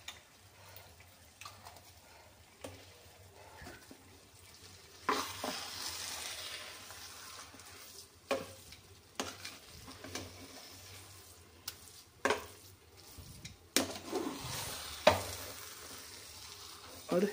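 Dal frying in ghee while being stirred, a soft continuous sizzle broken by intermittent scrapes and taps of the spoon, close but fairly quiet, with no one speaking.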